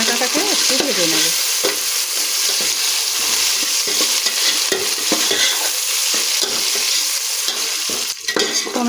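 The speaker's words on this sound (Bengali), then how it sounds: "টমেটোটাকে একটু ভেজে নেব।" Small chopped tomatoes fry in a pan for khichuri, a loud hissing sizzle broken by repeated scrapes and clacks of a spoon stirring, close by and continuous, with nobody speaking.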